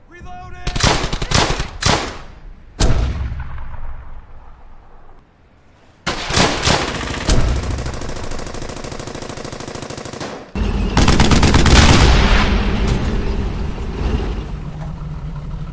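Loud machine-gun bursts and gunshots crackle through a World War II street battle in the video game Brothers in Arms: Hell's Highway, with short separated volleys early on, then sustained heavy firing.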